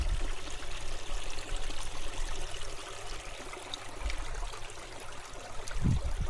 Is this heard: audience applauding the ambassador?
no